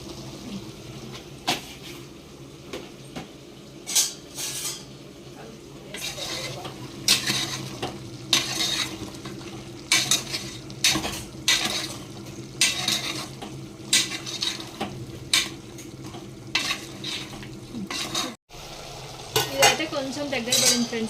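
A spoon stirs mutton in a cooking pot, giving repeated metallic scrapes and clinks against the pot over a continuous sizzle, with the scraping bursts coming at an uneven rhythm.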